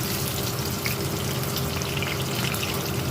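Diced potatoes frying in oil for a Bengali niramish echor (young jackfruit) curry, a steady close sizzle and hiss with no breaks and no voices.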